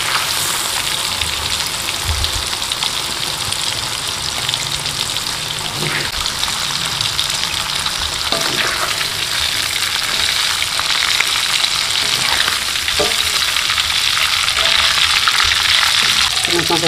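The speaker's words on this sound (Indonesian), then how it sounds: "sebentar menggorengnya." Shrimp and eggplant frying in a pan for a balado dish: a dense, continuous crackling sizzle like heavy rain on a surface, close and loud, with occasional faint stirring knocks throughout.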